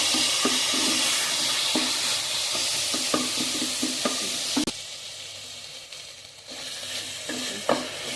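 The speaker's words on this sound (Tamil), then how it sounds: "2 தக்காளி, ஃபைன்லி சாப்ட் டொமேட்டோஸ். இது 2 மினிட்ஸ் வதங்கட்டும்." Finely chopped tomatoes sauté in a pan with a steady, fairly loud sizzle. A spoon scrapes and taps against the pan now and then, and one sharp knock comes midway, with no talk.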